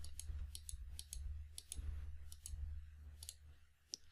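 Quiet computer mouse clicks come in short bursts and single taps while dummy values are entered into a web app, over a low steady background hum.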